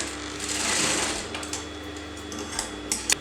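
A sewing machine runs in short bursts, stitching fabric cross pieces into a long strip for a kurti neckline, its close mechanical whir stopping and starting.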